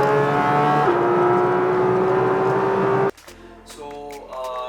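Porsche 911 GT3 RS on a road, its engine held at a loud, steady high-pitched rev for about three seconds before cutting off abruptly into quieter background sound.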